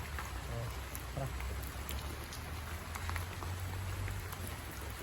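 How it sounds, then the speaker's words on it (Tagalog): Heavy rain pours down in a steady, dense hiss with scattered drop impacts, continuous and fairly loud throughout, with no clear voice over it. "sobrang lakas ng ulan"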